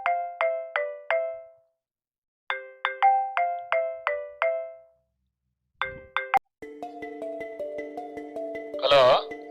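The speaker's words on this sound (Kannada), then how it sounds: "ಇವನ್ ಯಾಕೆ ಫೋನ್ ಮಾಡ್ತಾ ಇದ್ದಾನೀಗ?" A mobile phone ringtone sounds for an incoming call in a Kannada short film: repeated bursts of bright melodic tones with short pauses, then a denser ringing melody and a brief voice near the end.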